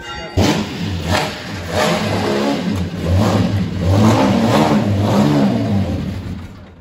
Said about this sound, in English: The roar of an engine.